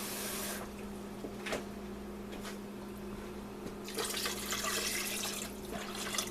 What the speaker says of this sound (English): Now we're gonna add some water down in there, cause pressure cookers love liquid, you know.